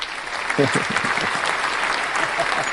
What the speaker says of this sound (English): warm applause for Musa.